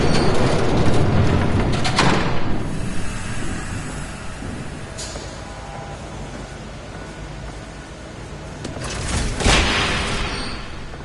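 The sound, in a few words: train passing in Batman Telltale Series video game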